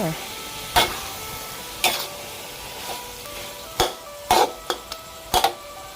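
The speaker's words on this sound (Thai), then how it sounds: "ผัดหมูกับซอกมะเขือเข้ากันดีแล้ว" Pork and eggplant are stir-fried in a pan, with a low, steady sizzle punctuated by a series of distinct spatula scrapes and clanks at irregular intervals, some coming in quick pairs.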